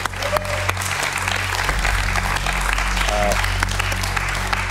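A theatre audience applauds the Varna theatre company in steady, dense clapping that continues throughout, with faint voices and a few brief tones underneath.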